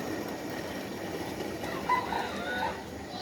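Desi hens on a backyard poultry setup give a few short clucks and soft calls against a quiet outdoor background, moderately distant and brief, with no voices.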